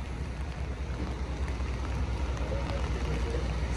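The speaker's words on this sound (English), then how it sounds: "it's raining really hard and it's very raw rain" Heavy, cold rain falls steadily at the scene of a second-alarm fire in an auto repair shop, a dense continuous hiss of downpour with no voices.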